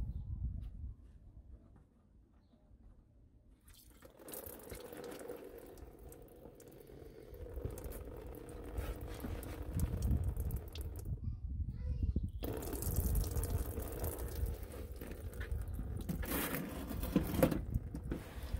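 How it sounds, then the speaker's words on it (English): Coolant drains out of the small white drain tap on a 9th-generation FK Honda Civic 1.6 i-DTEC, giving a steady close splashing, trickling wash of liquid that swells louder partway through. "So just release that and the coolant will come out slowly and with a bit of splashing."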